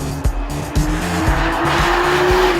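A 2014 Chevrolet Camaro Z28 corners hard on a race track, its engine droning steadily with a rising pitch while tires squeal and scrub through the turn, loud and close.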